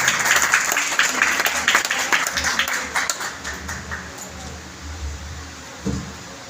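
An indoor audience at a nursing event breaks into loud, dense applause to welcome a nursing consultant. The clapping starts full and gradually thins and fades, and a few scattered claps and a thump come at the end.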